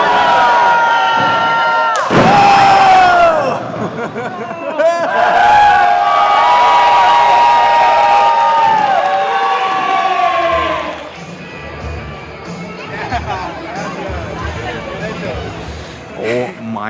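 A rowdy crowd at a rustic, lively event in Mexico bursts into loud cheers, whoops and shouts, rising in waves and then easing into a busy murmur, with people talking nearby.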